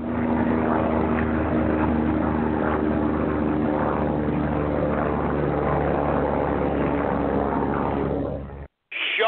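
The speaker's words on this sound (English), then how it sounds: "Shut up with the freaking chopper" Steady rotor-driven aircraft drone of a helicopter flying, loud and continuous with a low pulsing hum, cutting out abruptly near the end.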